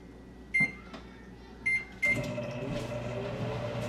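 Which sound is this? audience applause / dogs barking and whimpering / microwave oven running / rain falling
microwave oven running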